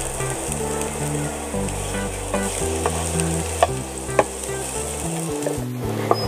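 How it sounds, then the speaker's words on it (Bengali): Chopped onion fries in oil in a pan, a loud continuous sizzle with occasional sharp clicks of a spoon stirring, steady throughout with no speech. "পেঁয়াজটাকে আমি ভালোভাবে ব্রাউন কালার করে ভেজে নিলাম"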